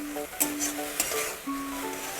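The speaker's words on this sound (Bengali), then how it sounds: "আবারও একটু নাড়িয়ে নিচ্ছি।" Chicken being stirred in a pan for momo filling gives brief scrapes and light clinks over a steady, soft sizzle, with a faint tonal hum running underneath.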